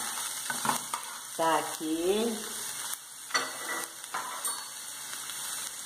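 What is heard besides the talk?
onion frying in pan with garlic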